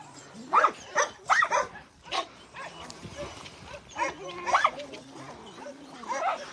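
Three chained dogs bark outdoors near olive trees, loud repeated close barks in quick bursts, then softer whimpers and yips with a person talking nearby.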